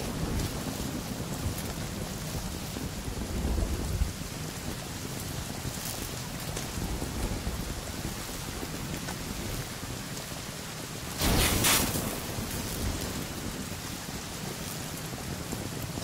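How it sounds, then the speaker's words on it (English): Steady, heavy rain hisses without a break in the Sons of the Forest game, with a soft low rumble of thunder and one louder swell of downpour partway through, no voices. "It's raining harder,"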